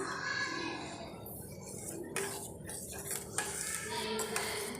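Ragi flour paste being stirred in a pot, a steady scraping and sloshing with occasional clinks of the spoon against the metal, close and continuous with no talk.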